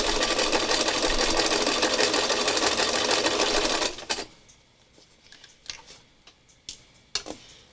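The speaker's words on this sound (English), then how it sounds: "I'm just stitching these ribbons, overlapping them" A sewing machine stitches overlapping ribbons in a fast, continuous run for about four seconds, then stops, leaving scattered clicks and light handling noises.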